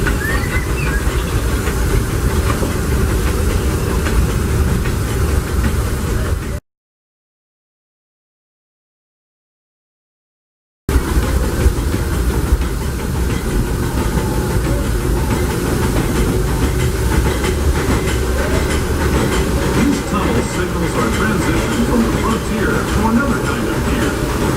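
The Disneyland Railroad steam train rolls along its tracks toward Toontown Depot, a loud, continuous rumble and hiss with rhythmic clatter, broken by a few seconds of total silence midway.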